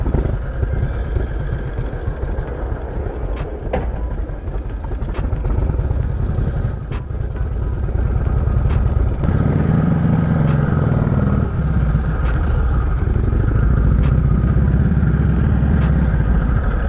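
A motorcycle engine runs loud and close outdoors, idling rough and steady with a low rumble that swells partway through, and no one speaks.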